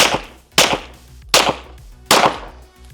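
Pistol shots ring out at a USPSA practice range, four sharp, loud reports spaced roughly three-quarters of a second apart, each with a short decaying tail and no talk.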